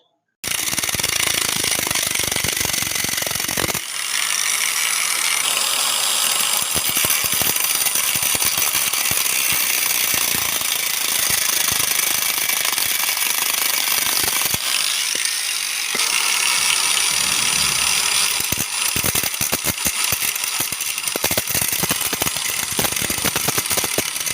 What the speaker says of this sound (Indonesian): Dikarenakan lilitan besi pelindungnya sangat tebal, jadi memecahnya harus menggunakan gerinda.